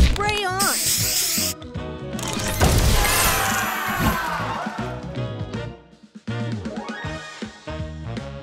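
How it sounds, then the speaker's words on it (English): A spray booster effect in the Match Masters mobile puzzle game: a loud, dense, hissing spray burst that swells in the middle, layered over busy game chimes, crashes and a voice calling out. "Booster ready! Spray on!"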